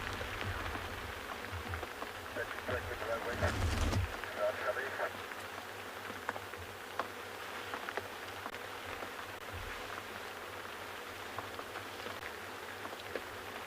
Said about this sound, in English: all I can hear if I listen is the breeze and the rain